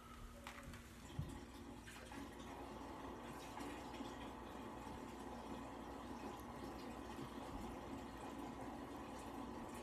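Water is poured from a container into a condensate pump, making a steady, continuous rush of liquid that holds at an even moderate level for about ten seconds with no voices.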